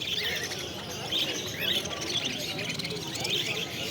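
Cockatiels and other caged birds at a busy Garia bird market chirp and tweet repeatedly in bright, overlapping calls, with a soft dove-like coo and crowd murmur underneath.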